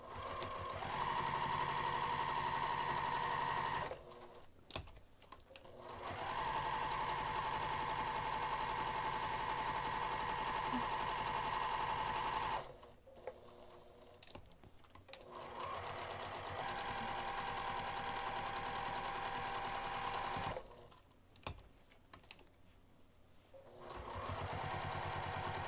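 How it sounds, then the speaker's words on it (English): A sewing machine stitches in steady, buzzing runs, pausing twice before starting up again, close and clear with no talking. "I'm going to take this back over to the sewing machine"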